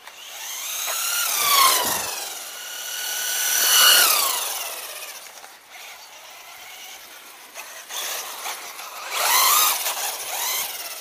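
An LRP S10 BX brushless 4WD 1:10 scale RC car runs fast along a long straight, its high electric motor whine rising and falling in several passes as it speeds toward and away, with no talking.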